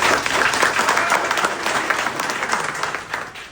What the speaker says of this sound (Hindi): जोरदार ताली मारिए हमारे।